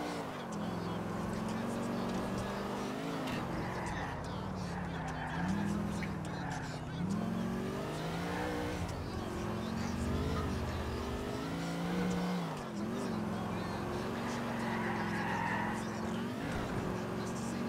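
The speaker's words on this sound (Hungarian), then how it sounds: "ez az autó gyors és elég normálisan lehet irányítani" A car in the video game Grand Theft Auto IV drives hard, its engine revving up and down through repeated gear changes, with tire skids, a continuous loud drone and voices faintly beneath.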